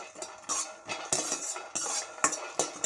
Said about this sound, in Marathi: बघा छान प्रकारे भाजून घ्या शेंगदाणे